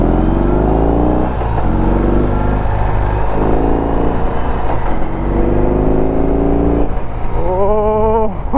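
BMW R18 motorcycle engine pulling hard, a loud, continuous rumbling drone that rises in pitch through gears with shifts along the way and a sharp climbing rev near the end.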